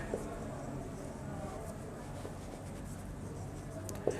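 A word is handwritten on a classroom board, producing faint, steady scratchy strokes against a constant room hiss, ending with a brief sharper tap.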